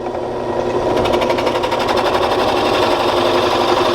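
A small benchtop drill press bores into a guitar neck pocket on an LP Custom build, giving a steady, loud mechanical whir with a rapid periodic chatter that continues throughout.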